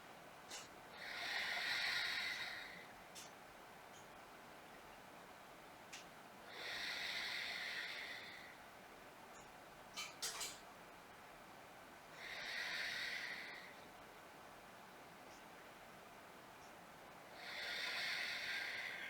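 Slow, deep breaths of a person holding a low lunge during a yoga sequence, four soft airy exhales spaced several seconds apart in a quiet room, close and gentle.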